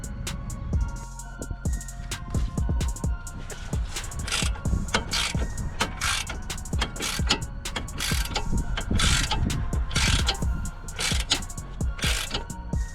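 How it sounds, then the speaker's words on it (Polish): Socket wrench with an 18 mm socket, held against a 19 mm counter, loosening the stabilizer link nut on a Nissan Qashqai; rapid close ratcheting clicks in bursts with metallic clatter, continuous throughout. "Tutaj nasadka numer 18, i kontra numer 19 i odkręcamy"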